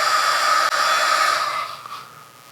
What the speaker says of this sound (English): And hear the fan kicking in.